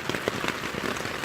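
Rain falls outdoors at a campsite after dinner, a steady, close patter of drops hitting surfaces with no voices over it.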